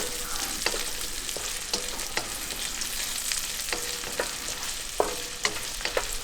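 Shallots frying in a pan for fried rice while cooking outdoors in the bush, a steady sizzle punctuated by repeated scraping stirs and small clicks, close and clear, no voices.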